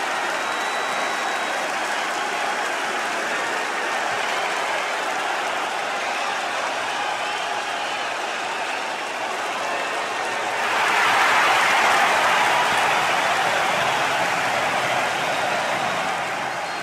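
A crowd at a WWE 2K25 wrestling event gives a steady, hissing wash of cheers and applause that swells louder near the end.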